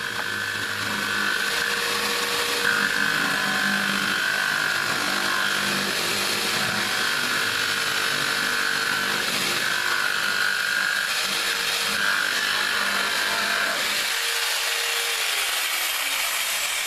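A power drill whines steadily through the lip of a plastic bucket, in repeated bursts of grinding with brief dips between holes, and winds down near the end.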